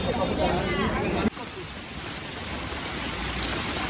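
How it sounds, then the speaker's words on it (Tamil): Heavy rain pouring around Trimbakeshwar temple, a dense steady hiss that starts loud and continues slightly softer after an abrupt cut, with faint background voices. "இந்த சரௌண்டிங் நல்ல மழை கொட்டுது"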